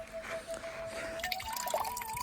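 A slow, thin stream of cold water runs from a tap beside an ashram road, a steady trickle with small drips and splashes, close by, with faint background noise and no talk.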